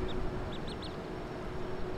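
Ducks by a river giving four or five short, nasal quacks in a quick run over steady outdoor background noise, fairly close and clear.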